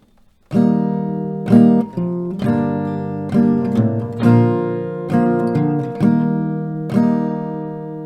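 Strummed acoustic guitar chords, about eight separate downstrums each left to ring, moving through a simple chord progression starting on C at a slow, steady pace.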